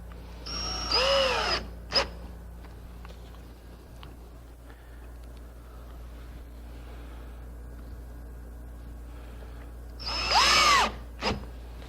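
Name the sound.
power drill drilling holes in wood for a quilt rack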